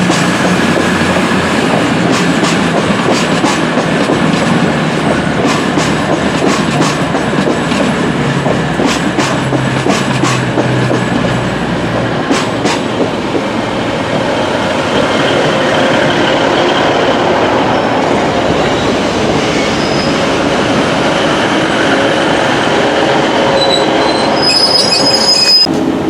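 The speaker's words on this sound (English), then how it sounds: "We're taking this train as far as Grindleford" Northern class 150 diesel train on the Hope Valley line, a steady loud rumble of wheels on rails with rhythmic clicks and occasional squeal, heard continuously from on board.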